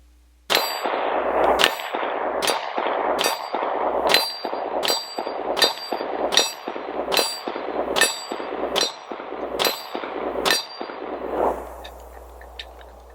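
A SAR Arms B6P 9mm pistol fires 147 grain Winchester rounds outdoors in a steady string of about ten sharp, loud shots roughly a second apart, each ringing off metal as it decays, with no voices.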